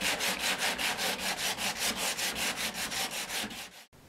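Steady back-and-forth sanding strokes, about four per second, rasp close and clear as a wrinkled resin repair on a carbon/Kevlar composite canoe is flattened, ending abruptly.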